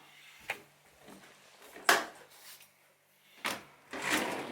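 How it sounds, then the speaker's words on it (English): A dishwasher door in a rented Istanbul apartment kitchen being pulled open and handled, giving a few sharp thuds and clunks with rattling and sliding in between, close by with quiet gaps and no speech. "this is actually a dishwasher"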